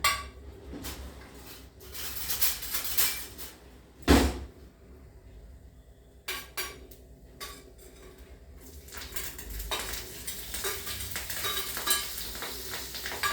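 Green chilies frying in hot oil with cumin and turmeric in a pan, with clinks and scrapes of a spoon against the pan, faint sizzle underneath, no talking.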